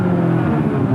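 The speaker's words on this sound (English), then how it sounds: "A lot of revs, and he's away." A rally car's engine revs hard and steady at the start line of a special stage of the 1983 NBN 300 Classic Rally, a loud, close, low roar filling the whole moment.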